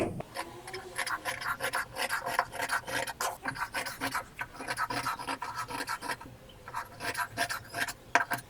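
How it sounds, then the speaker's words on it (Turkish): Scissors cutting fabric along a drawn line for an elastic-waist skirt, producing repeated close, rasping snips and rubbing in a steady uneven rhythm, with no talking. "Bu çizdiğim yerden kesiyorum hemen."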